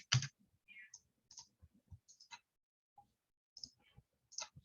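Scattered keystrokes on a computer keyboard as a neighborhood name is entered, sparse irregular clicks with short pauses between them, quiet and close in an otherwise silent room.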